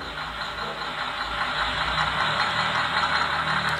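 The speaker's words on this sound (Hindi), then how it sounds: "तो गाइस ट्रक की साउंड की आवाज़ आ रही है" An RC truck's electronic sound module plays a running diesel engine: a continuous rattling drone at close range, steady and unbroken, with no voices.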